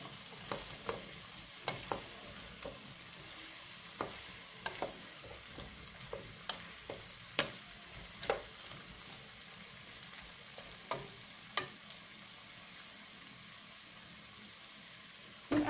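Cauliflower and mixed vegetables get stirred in a pan, with a quiet low sizzle beneath a long run of irregular spatula knocks and scrapes against the metal.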